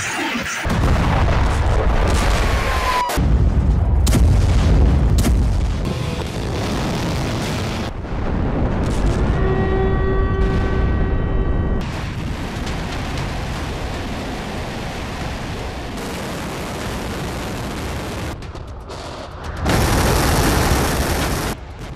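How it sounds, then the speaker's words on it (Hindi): Heavy explosions and deep rumbling booms from missile and rocket strikes in a war zone, a continuous loud roar with sharp impacts and a passing high whine, no talk. "जोरदार विस्फोट ये हुआ है"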